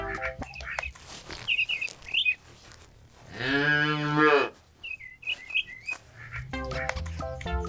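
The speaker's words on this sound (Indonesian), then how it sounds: "sapi perah." A dairy cow gives one long, loud moo in the middle, with short bright bird chirps before and after it and a musical backing throughout.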